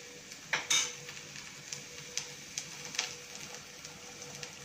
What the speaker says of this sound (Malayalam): ഗരം മസാല അതും കൂടി ചേർത്ത് നന്നായിട്ട് യോജിപ്പിക്കാം.